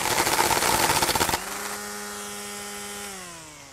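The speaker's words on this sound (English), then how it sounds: "when I pull the trigger, you'll hear it beating against that that cutting blade until it cuts off" A SKIL 40V string trimmer's line slaps rapidly against its cutting blade in a dense, loud rattling burst lasting over a second. The trimmer then settles into a steady, smooth whir that slowly winds down.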